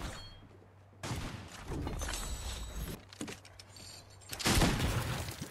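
The Dualies weapon fires in a video game in rapid bursts of gunfire with sharp impacts and mechanical clatter, loud and close, separated by short quieter gaps.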